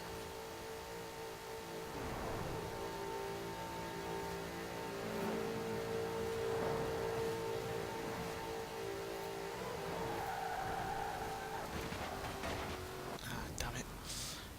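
A 2010 Saleen S5S Raptor races in Forza Horizon 4, its engine droning and revving steadily at high speed under continuous speech, with brief surges near the end.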